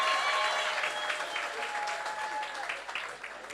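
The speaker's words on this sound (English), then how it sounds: "keep that clapping going." Audience applause at a startup awards event in Cape Town, steady broadband clapping from a sizeable crowd that holds fairly even throughout, with a few faint voices and cheers mixed in.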